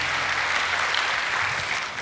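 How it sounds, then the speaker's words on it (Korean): A church congregation claps at a Sunday worship service, a dense, steady wash of applause filling the whole moment at even loudness. "하나님께 영광의 박수를 올려드리겠습니다."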